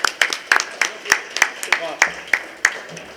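An audience applauds at an Oktoberfest gathering with an ambassador as chief guest: about a dozen sharp, evenly spaced claps fall in a steady slow rhythm, close and distinct rather than a dense roar.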